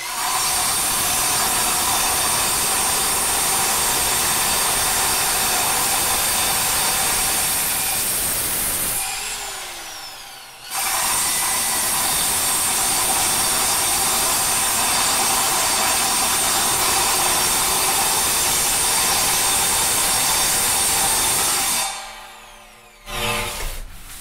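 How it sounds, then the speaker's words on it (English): A metal lathe cuts into a cymbal spinning on its spindle, giving a loud, steady high-pitched scraping whine with a broadband rasp that stops briefly near the middle and again near the end. "You see it's changing color where it's lathing certain areas."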